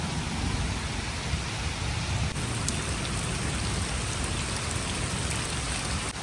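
Steady rain keeps falling after a Kalbaishakhi storm, a dense, even hiss of drops on surfaces that holds without a break from start to finish, with no voices.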